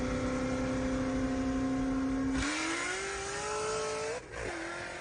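Two Corvette ZR1 cars accelerating hard in a street race, a loud, close engine drone climbing in pitch, then dropping with a gear shift near the middle and rising again before another brief shift.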